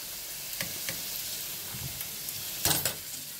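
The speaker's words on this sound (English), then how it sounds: "the bacon and the onions over here sauteing right now" Bacon and onions sauté in a pan with a soft steady sizzle, punctuated by a few brief scraping stirs and a louder burst of crackle near the end, close and quiet.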